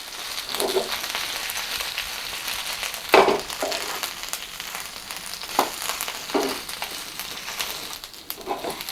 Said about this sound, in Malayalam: അതും കൂടെ ചേർത്തിട്ട് നന്നായിട്ട് ഇളക്കിയെടുക്കാം.